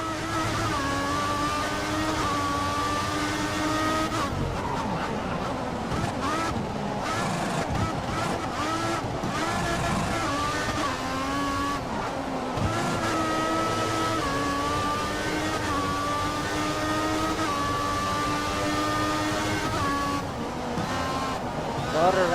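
A Formula 1 car in F1 2014 racing at the Belgian Grand Prix, its high-pitched engine wailing and shifting through gears continuously, with brief drops in pitch as it brakes into corners, while someone talks over it.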